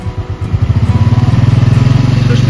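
A motorbike engine idles and revs close by at a seaside resort, giving a steady, throbbing low pulse that holds loud and unbroken for the whole stretch.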